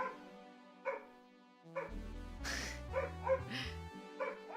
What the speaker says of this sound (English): I'm so sorry my dog's barking.